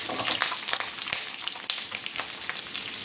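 Chilies frying in hot oil in a pan, a close, continuous crackling sizzle with small pops and stirring scrapes, steady throughout with no voices.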